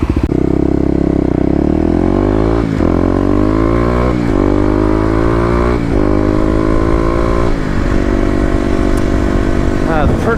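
A Kawasaki KLX250 motorcycle engine revs loudly and steadily in the city, pitch rising and dropping in repeated surges with brief gear-shift dips, close to the microphone.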